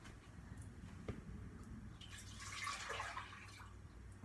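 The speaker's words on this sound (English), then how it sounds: "So just pour that into a saucepan" Milk poured from a container into a saucepan, a steady splashing, trickling stream that swells toward the middle and tapers off, heard close and alone in a kitchen.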